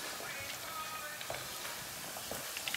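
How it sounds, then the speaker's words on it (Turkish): Potatoes fry in hot oil in a pot, giving a soft, continuous sizzle with faint crackles and occasional small pops at moderate volume. "patateslerimizi kızartıyoruz bir şekilde"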